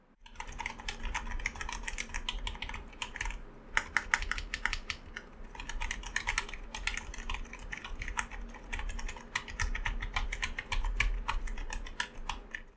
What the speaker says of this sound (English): Here is a typing test to prove my point.